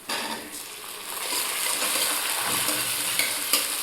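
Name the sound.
frying tomatoes and onions in a pan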